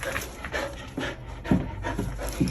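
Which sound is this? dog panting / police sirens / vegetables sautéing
dog panting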